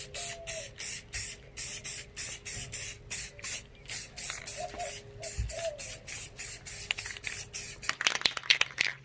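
Rhythmic bursts of aerosol spray paint coating a see-through sprocket cover for a Suzuki GSX-S1000 motorcycle, short hissing passes repeated steadily and close, ending in a few sharp clicks and rattles.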